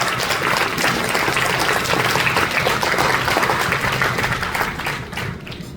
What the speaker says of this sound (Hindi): तो एक बार उनके लिए भी आप ताली बजाइए।